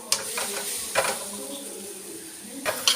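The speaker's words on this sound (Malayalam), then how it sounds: "പൊടികളുടെ പച്ചമണം മാറുമ്പോഴത്തേക്ക് നമുക്ക് ഇട്ട് ഇത് മൂപ്പിക്കാം" Chicken masala powder stirred and roasted in a pan on the stove for an egg curry, a soft sizzle with occasional scrapes and taps of the spoon against the pan, fairly quiet.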